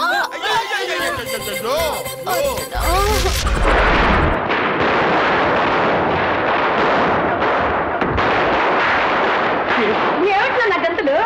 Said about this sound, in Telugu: దీపావళి కాదు, టపాకాయలు కాల్చిపోతే ఎలా?